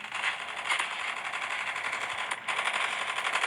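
HOLGER 26 machine gun firing in Call of Duty Mobile, a dense, continuous rapid burst of gunfire with a brief break midway, loud and close with no talk.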